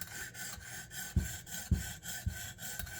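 Knife blade stroked across a PDTools premium silver sharpening stone wetted with soapy water, a soft rhythmic rasping scrape repeating roughly every half second, close and fairly quiet.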